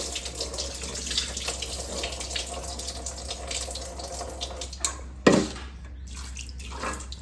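Chopped onions rinsed under a running kitchen tap, a steady close hiss of water splashing in a sink with faint clatter, a brief louder splash near the end, no talking.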